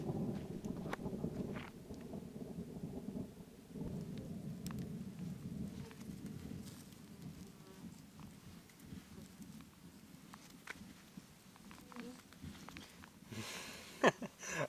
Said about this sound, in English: That thunder is going crazy.